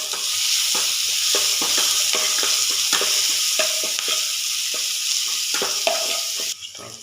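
Garlic paste sizzles steadily in hot oil in a pan for a masala dosa potato filling, with repeated scraping stirs across the whole stretch and no talk.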